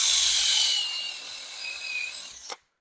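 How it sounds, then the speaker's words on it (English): Broadband grinding and rasping from a small drill bit boring into a wood carving of a human skull, steady for about two seconds, then a short sharp scrape as it stops, followed by silence. "I'm actually going to drill just a little bit of a hole here"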